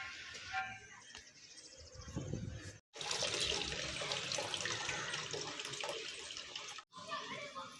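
Water pours steadily into a pot of fish curry being made with two kilograms of fish, a loud continuous rushing splash that breaks off briefly twice.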